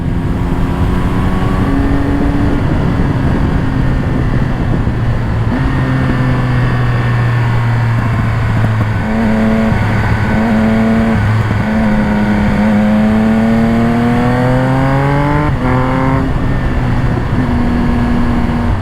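A Triumph Speed Triple 1200 RS motorcycle's engine drones loud and close while riding, holding steady tones that shift through gear changes and climb again in pitch near the end.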